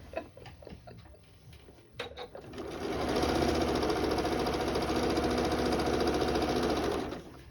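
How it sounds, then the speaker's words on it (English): A sewing machine runs steadily, stitching binding onto a large quilt, a fast continuous mechanical whir that starts after some brief handling clicks and holds near and loud for several seconds before stopping. "And you're going to keep sewing around."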